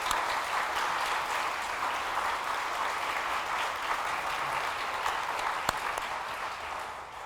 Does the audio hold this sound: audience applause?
yes